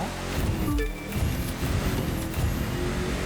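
A Ford F-150 Raptor Ghost Recon Edition in The Crew 2 racing game drives on paved road, its engine droning steadily and loudly throughout with faint tire and wind hiss.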